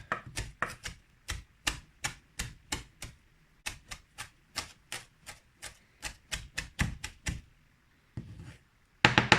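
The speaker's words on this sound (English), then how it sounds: "I'll use the point of the blade and go along and chop it more finely without lifting the front point of the blade off of the board" A knife chops herbs finely on a board in quick, crisp taps, its point kept down while the blade rocks along. The strokes come in bursts of rapid knocks with short pauses between them, close and clear.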